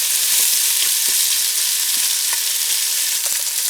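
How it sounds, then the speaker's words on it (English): Cubed potatoes sear in a hot pan with a loud, continuous sizzle, broken by scattered clicks and scrapes as the pieces are flipped. "So this is just searing. We've got all of our potatoes cubed up. I'm just going to flip most of these."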